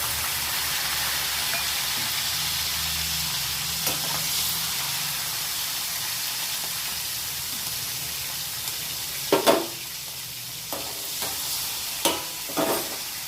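Green chillies frying in a pan give a steady, even sizzle with a soft hiss, broken by a few sharper scrapes and stirring knocks near the end.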